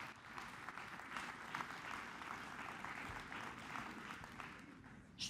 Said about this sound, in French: Bonne main d'applaudissements, s'il vous plaît, pour nos experts